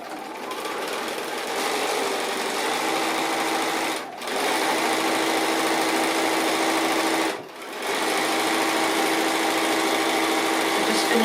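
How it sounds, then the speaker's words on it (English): A sewing machine runs steadily, stitching the quarter-inch seam at the end of a fat-quarter zippered pouch, loud and close, with two brief pauses around four and seven seconds. "now we just need to sew that at each end with our 1/4 inch seam allowance"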